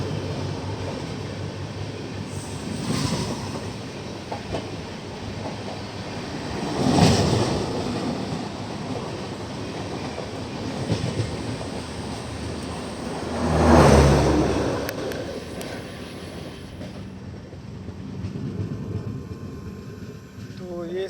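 Rumbling run of the Kashi Vishwanath Express between Delhi and Banaras, a steady broadband rattle and hum with swelling passes around the middle and end, wind-like roar throughout, no voices.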